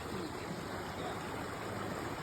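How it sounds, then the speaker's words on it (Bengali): Cold water of a mountain stream rushes in a steady, dense wash without pause, close by and moderately loud, with no voices. "পাহাড়ের ঠান্ডা ঠান্ডা জল।"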